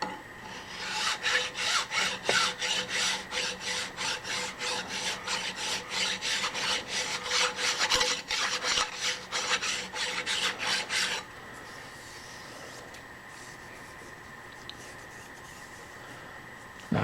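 Hand file rasping burrs off a machined metal part for a shaper attachment, with rapid rhythmic strokes for about eleven seconds, close and loud, then stopping and leaving a quiet hum.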